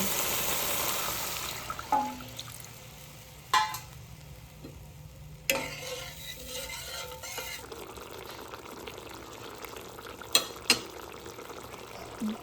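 Water goes into oil-separated fried spice paste in a pan for a Japani puti fish tel jhal, bursting into hissing sizzle and splashing, followed by scattered stirring clinks and bubbling, close by with no voices.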